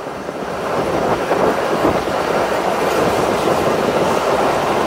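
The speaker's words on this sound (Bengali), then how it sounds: "আমাদের ট্রেনটি শ্রীনগর রেলওয়ে স্টেশনের কাছাকাছি চলে এসেছে।" Commuter train nearing Sreenagar railway station, heard from inside as a loud, steady rumble with rhythmic wheel clatter on the rails and no voices.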